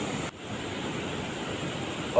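Rushing water released from the Ujani dam flowing down the Bhima river during flooding, a steady broadband roar with wind buffeting the microphone, continuous and fairly loud throughout.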